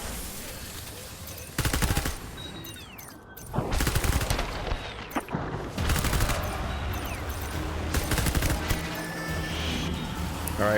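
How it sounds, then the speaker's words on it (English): Non-lethal assault rifle fire in the video game Death Stranding, heard as loud, dense bursts of rapid gunfire with short pauses between them, over game ambience. "Non-lethal assault rifle, by the way."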